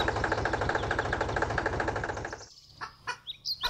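A red tractor engine chugs with a steady, rapid rhythmic pulse close by, then cuts off abruptly, leaving a few faint scattered sounds.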